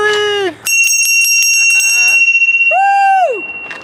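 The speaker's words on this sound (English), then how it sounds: "we got to ring the bell before we go." A bell rings repeatedly at the start of the Katy Trail rail trail, bright ringing strikes sounding close and loud between excited voices whooping and talking.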